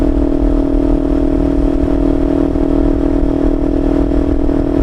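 Close and loud, the Kawasaki Ninja 500 fitted with an aftermarket exhaust holds a steady, throaty engine drone throughout, with no one speaking.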